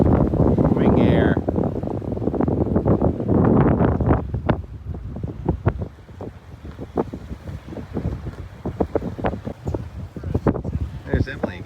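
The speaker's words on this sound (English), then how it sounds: "The wind is so strong from the south" Strong southerly wind blows across a boat off Nantucket, buffeting the microphone with loud, rough gusts at first that ease into intermittent bursts, with voices at times.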